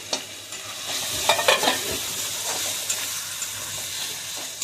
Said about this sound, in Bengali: মশলা কষা নিয়ে গেছে, এবার দিয়ে দেবো আলুগুলো, দিয়ে দেবো। আলুগুলো দিয়ে দিলাম।